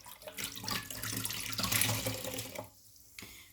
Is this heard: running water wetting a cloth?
yes